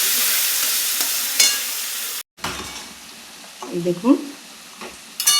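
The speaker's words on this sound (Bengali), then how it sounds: "পেঁয়াজ দিচ্ছি, পেঁয়াজ ভাজা ভাজা করবো" Onions frying in hot oil with cumin and bay leaf while mutton kasha is prepared, a loud sizzle that cuts off briefly and then returns with stirring scrapes, under a short spoken phrase.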